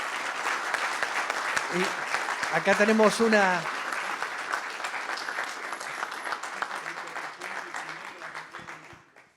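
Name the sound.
audience applause for two speakers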